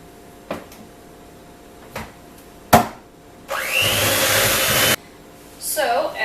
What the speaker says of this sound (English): back over to my hand mixer and beat this all together